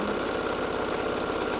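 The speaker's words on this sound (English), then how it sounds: "just sewing down both sides to finish that off" A sewing machine runs steadily, stitching down both sides of a fabric piece, a continuous close mechanical whir with a fine rapid rhythmic pulse throughout and no speech.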